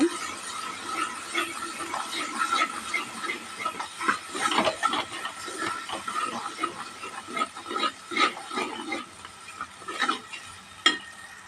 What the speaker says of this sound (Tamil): இந்த வெங்காயம் ஃப்ரை ஆகி மசாலாவை நல்லா எண்ணெயிலே வதக்கிக்கலாங்க